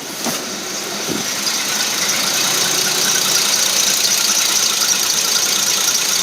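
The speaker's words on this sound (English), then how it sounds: "Engine sits perfectly still." A rebuilt 1954 Dodge Power Wagon engine idles close by in a steady, even run with a high squealing whine on top, and no one talks over it.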